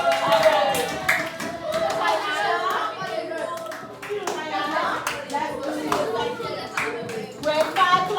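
A Grade 5 class clapping for a classmate, scattered hand claps mixed with children's voices and chatter in the room.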